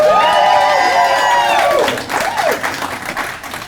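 An audience at a school district event for a new high school bursts into loud cheering and whoops with clapping, bright voices rising and falling before the noise thins out.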